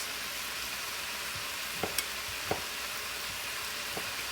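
Already-cooked pork sizzles in a hot pan for pork fried rice: a steady, close frying hiss broken by a few sharp clinks of a utensil against the pan, with no talking.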